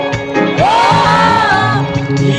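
A Filipino concert crowd at a live show in Riyadh shouts and cheers loudly and continuously, with a rising, whooping voice soaring over the steady roar of the audience.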